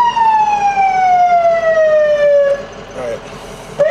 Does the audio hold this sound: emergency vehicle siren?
yes